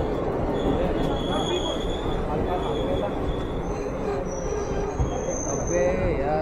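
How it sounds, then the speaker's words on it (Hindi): A train pulls into a station with a steady rolling rumble, wheels squealing and ringing at high pitch, and a person talking now and then over the noise. "गाइज हमारी फाइनली ट्रेन आ चुकी है, अभी हम बैठने वाले"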